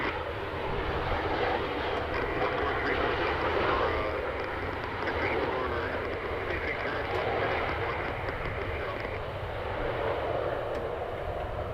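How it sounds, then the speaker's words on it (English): A WestJet airliner roars at full throttle on takeoff from Edmonton International Airport, a broad, steady jet rumble heard from a distance, fairly faint and sustained throughout. "Good to see WestJet flying back, full throttle."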